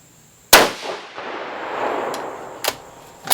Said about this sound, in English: We're going to go ahead and shoot this next one.